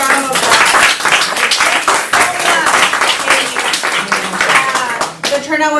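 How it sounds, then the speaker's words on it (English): Audience at a team meeting applauds, a dense sustained round of clapping that fills the room for several seconds before thinning out at the end, with no talk over it. "Can we please give her a round of applause?"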